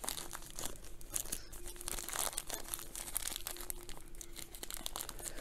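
Packing tape pulled and torn off a cardboard shipping box of Alocasia plants, a close, continuous crinkling and ripping with scratchy bursts throughout.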